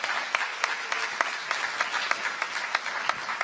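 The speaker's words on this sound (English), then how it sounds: "So many applause" Thin, scattered applause from a small audience at a new student orientation, individual claps popping out at an uneven rhythm over a soft wash of clapping.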